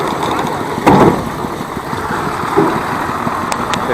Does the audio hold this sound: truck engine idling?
yes